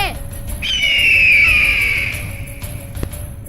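Loud, sustained squawking cry of a cartoon kite bird, one long drawn-out screech over a comedy scene's background bed, fading toward the end.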